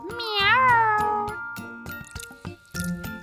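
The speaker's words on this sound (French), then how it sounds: "C'est un chat!" A cartoon cat gives one loud, drawn-out meow up close, followed by plinking, dripping-like cartoon sounds and a short musical jingle in an animated children's counting show.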